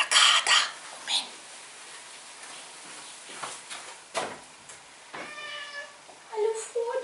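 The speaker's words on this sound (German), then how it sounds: "Jetzt kommt der Kater." A tomcat indoors gives a few short meows among sharp thumps and some throat-clearing noises, with a voice briefly heard.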